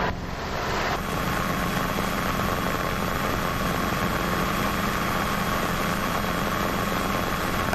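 A Robinson R22 helicopter in flight near Princeton during a student pilot's mock check ride, its engine and rotor droning steadily and loudly from inside the cabin throughout, with no break in the noise.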